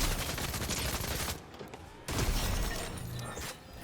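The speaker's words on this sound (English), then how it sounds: "Misses a shot with the Ranger shotgun" Ranger shotgun fire in Fortnite Zero Build, dense bursts of blasts and crashing impacts, loud and close, with a brief lull before another harsh volley.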